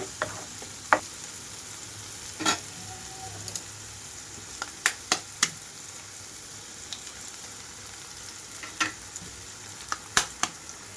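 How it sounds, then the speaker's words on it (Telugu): Beaten eggs frying with vegetables in a pan over a high flame for egg Maggi masala: a steady soft sizzle with scattered sharp clicks of a utensil against the pan, no voices. "ఇప్పుడు ఇందులోకి ఎగ్స్ బీట్ చేసి వేసుకుంటున్నాను నేను ఎగ్స్ వేసేటప్పుడు మాత్రం హై ఫ్లేమ్లోనే ఉంచుతున్నానండి"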